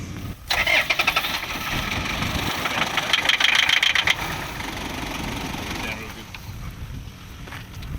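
A car engine cranks and catches, then runs roughly with clanking for several seconds before easing off, close and fairly loud, with voices nearby.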